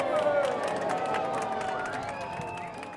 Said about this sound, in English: As we passed under the Verrazzano Bridge, the passengers applauded and expressed their appreciation.